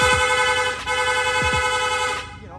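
A Sniper 155 motorcycle's aftermarket horn blares loudly and close, one sustained tone with a short break, then cuts off near the end.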